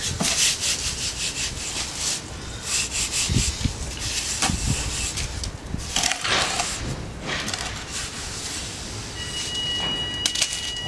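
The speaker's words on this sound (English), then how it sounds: "Now you can use a straight edge to rub it off." A straight edge scraped across tile primer and bedding mortar at a tiling trade demo, a continuous gritty rubbing with repeated strokes, loud and close, with no talking.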